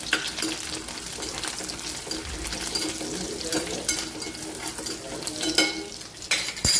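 Peanuts tossed into a pan of sautéed onion for spicy rice fry with a steady broadband sizzle, with stirring scrapes and occasional clinks of a spoon against the pan throughout.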